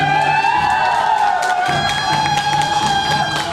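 Audience at a company annual function bursts into loud, sustained applause and cheering with whoops and shouts, a dense crowd roar continuing throughout.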